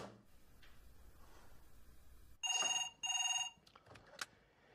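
A telephone bell rings in two loud, rattling bursts indoors after quiet room tone, followed by a faint click or handling sound.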